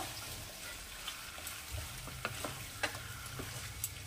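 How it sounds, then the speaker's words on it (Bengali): Chicken with raw mango sizzles steadily in a pan on a low flame, with a few sparse, light stirring scrapes and clicks over the continuous hiss. "একটু ভালো করে নাড়াচাড়া করে দেবো।"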